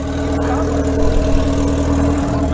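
A 350 cc motorcycle engine runs with a steady, dense rumble throughout, close and fairly loud, with slight surges in revs.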